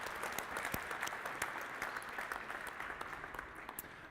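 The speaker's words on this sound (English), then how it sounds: "can we give a big round of applause to everyone who's doing work under Creative Commons?" Audience applause at a Creative Commons Qatar anniversary event, a dense, continuous patter of many hands clapping at steady strength throughout, heard without speech.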